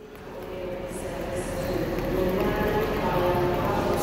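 ScotRail train running on the way to Edinburgh, a steady rumbling rattle of wheels and carriage that slowly grows louder over a few seconds, heard close from on board.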